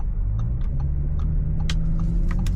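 A 2020 Audi S5 Coupe being driven, its engine a steady low rumble that builds under acceleration through paddle-shifted gears, with faint ticks and clicks from the cabin over the continuous drone.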